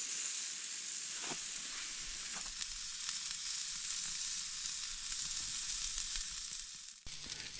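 Steak sizzles steadily on a grill grate set over a campfire at a winter campsite, a loud, constant close frying hiss that runs unbroken, with no one talking.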